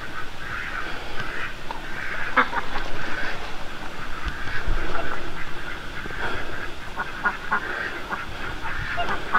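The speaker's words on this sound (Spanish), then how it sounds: "Hay un pato." A duck quacks in a spooky outdoor setting at night, repeated harsh calls at moderate distance over steady background noise, with brief murmurs of voices.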